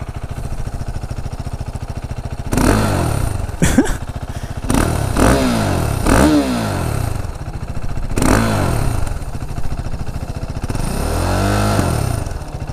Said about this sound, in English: let us crank the 2017 KTM RC390